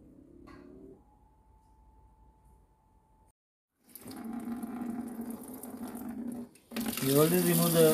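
After a quiet stretch, water rushes out of a disconnected LG dishwasher inlet line in a steady gushing stream, then bursts louder and splashier near the end.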